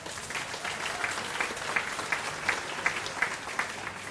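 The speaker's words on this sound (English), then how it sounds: "I think he really does deserve another round of applause." An audience at an Australian Chinese Charity Foundation gathering applauds the Prime Minister, dense steady clapping with faint regular accents throughout and no clear speech.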